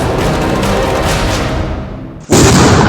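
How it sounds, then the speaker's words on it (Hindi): A bomb disposal squad sets off a controlled blast to destroy an IED on the Srinagar–Baramulla highway in Jammu and Kashmir. A steady rumbling wash gives way to one sudden, loud, close detonation near the end, followed by a sustained roar. "आप सुन सकते हैं, बहुत जबरदस्त धमाका हुआ"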